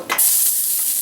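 Garlic hitting hot olive oil in a wok erupts into a loud, close sizzle that holds steady for a second after a brief stir.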